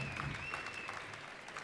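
Brief crowd applause at a barista competition, a faint, even patter of clapping from an audience heard at a distance, with a thin tonal whine above it.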